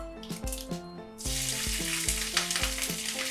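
Green chilies dropped into hot oil with curry leaves burst into a loud, steady sizzle after about a second of quiet, crackling continuously over soft background music.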